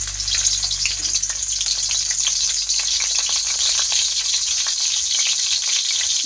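Chopped onions sizzle and fry in hot oil in a pan as the base for ginataang crabs, a loud, steady crackle close up with occasional stirring scrapes and no talking.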